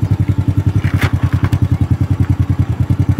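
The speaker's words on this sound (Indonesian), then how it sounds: "Ini dia motor yang saya gunakan untuk bertualangan di Yogyakarta" A motorcycle idles close by on a road near an old collapsed bridge in Yogyakarta, its engine thumping in a steady, rapid pulse with faint clatter on top.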